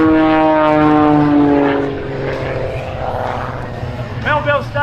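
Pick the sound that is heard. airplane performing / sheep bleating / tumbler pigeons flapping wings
airplane performing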